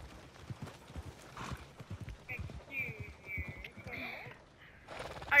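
Horse hooves clip-clop in steady rhythmic beats in Red Dead Redemption 2, mixed with brief whinny-like calls and mechanical clicks. Voices talk over the game sounds.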